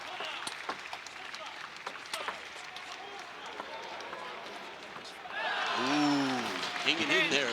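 A table tennis crowd at a world championship match claps in a scattered burst of applause, and then a voice starts talking over it.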